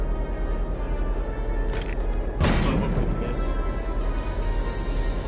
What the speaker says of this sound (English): Just have Walter keep shooting